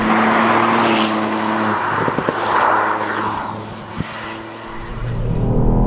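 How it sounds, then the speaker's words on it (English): A 2018 Ford Fiesta ST's three-cylinder engine pulls hard on a country B road, its loud, close, buzzy drone shifting pitch through gear changes and rising again as it accelerates, with no talking. "it's a strong engine. For the little three cylinder, it's very strong, very torquey, very punchy"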